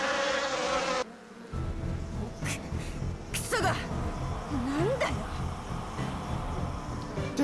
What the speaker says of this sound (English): Tsukasa screams hysterically at the giant fly suddenly buzzing around us.